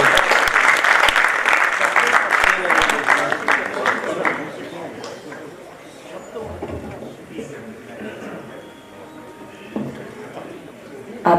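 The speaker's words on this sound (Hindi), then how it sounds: "जोरदार तालियों के साथ हम प्रिय कविता तिवारी।" Loud audience applause welcomes a poet onto the stage at an all-India poetry gathering, dense clapping that thins out after about four seconds into a murmuring crowd with scattered claps and faint chatter.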